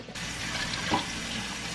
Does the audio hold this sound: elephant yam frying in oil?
no